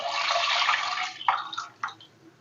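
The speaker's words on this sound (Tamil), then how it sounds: "இந்த பாசிப்பருப்பு கூடயே இந்த ஜவ்வரிசியும் தண்ணியும் ஊற்றிடலாம்." Water and sago pearls pour into moong dal in a cooking pot, a steady close splashing wash for about a second that trails off into a few brief separate splashes and drips.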